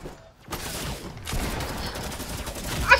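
Gunfire in the Fortnite video game, a scattered flurry of shots that begins after a brief quiet moment and builds into a loud burst at the end.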